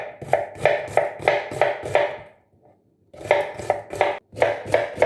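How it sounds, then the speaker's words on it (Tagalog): Knife slicing garlic and onion on a cutting board for Filipino adobong sitaw, a quick even run of crisp chopping taps, a brief pause, then another steady series of cuts, close and clear. "So, i-slice muna natin."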